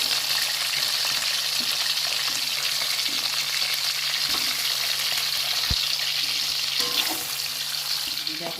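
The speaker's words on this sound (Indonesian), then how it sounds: "Kita goreng tahu ya" Tofu frying in a pan at home, a steady dense sizzle with small pops and crackles running continuously throughout, close and fairly loud, with no talking.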